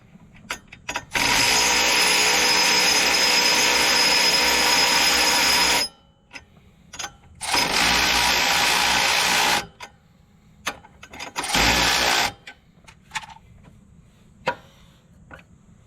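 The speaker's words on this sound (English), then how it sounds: "Now we're gonna drill some holes" A power drill whines loudly through a metal bracket on a Jeep XJ in three bursts, a long one, then two shorter, with small clicks and knocks in the pauses.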